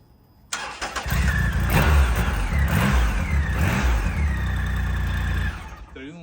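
A Triumph motorcycle engine cranks, catches and fires up close, then revs hard in repeated rising bursts over a rough rumbling idle before cutting off abruptly.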